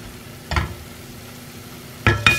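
Grated beetroot with cardamom powder being sautéed in a pan, heard as a couple of short, close scraping stirs over a faint steady sizzle, with no talking.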